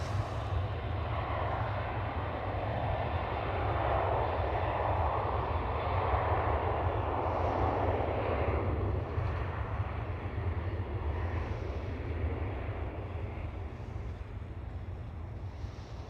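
A Transavia Boeing 737 jet at Amsterdam Schiphol airport gives off a steady, broad roar that holds fairly loud for the whole stretch, with wind buffeting the microphone.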